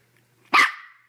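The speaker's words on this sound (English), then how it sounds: "Don't bark, just sit." A single sharp bark from a dog being trained to sit for a toy, loud and close, after a moment of quiet with no talking.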